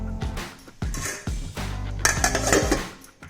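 Metal clanks and clinks as a lid is set onto a pot of cauliflower podimas after the stove is switched off, several sharp knocks close by.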